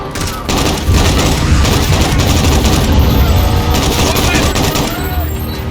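Sustained video game gunfire during a street fight, a loud, dense barrage of rapid shots and booms that keeps going almost the whole time, with voices calling out now and then over the shooting.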